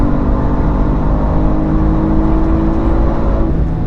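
A BMW X3 M SUV engine accelerating hard on the Nürburgring, a loud, steady in-cabin drone with rising harmonic tones and a brief shift near the end, with no talking.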